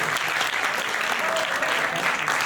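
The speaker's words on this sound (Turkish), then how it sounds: "kocaman bir alkış yapıyorsak çok mutlu olurum" A concert crowd applauds steadily, dense clapping that stays even and loud throughout.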